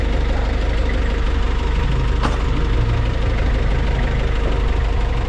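Hyundai H-100 engine idling loud and close, running rough and misfiring after an overhaul, a steady uneven throb with a knocking undertone and one sharp click partway through.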